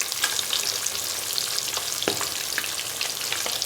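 Fish fries in a pan with a constant, close-up sizzling hiss broken by brief sharp crackles and pops.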